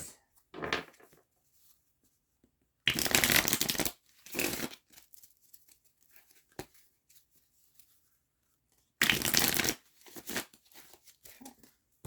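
A tarot card deck is shuffled close by in two bursts of brisk riffling, each about a second long, with scattered soft card handling and quiet taps in the pauses between.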